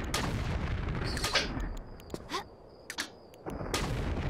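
Gunshots from Lara Croft's weapons in the Great Pyramid level of Tomb Raider 4, a series of sharp separate reports spaced unevenly over steady game ambience, with a high tonal hum between the shots.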